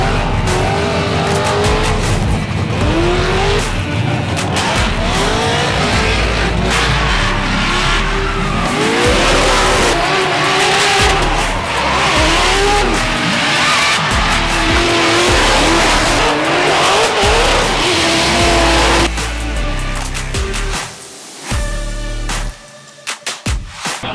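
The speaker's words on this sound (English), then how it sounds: "Misfire in the car on the first two runs there." A loud drift car engine with a misfire runs hard throughout, revving and bogging with tire squeal and skidding, then cuts out near the end into choppy sputtering.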